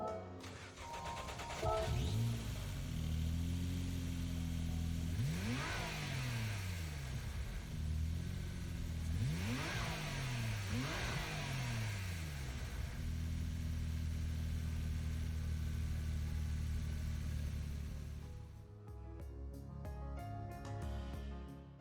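Peugeot 205 GTI in Gran Turismo 7 fitted with the Volkswagen GTI VGT Gr.3 race engine, revving repeatedly with rising and falling pitch over a loud rumbling drone, close and sustained.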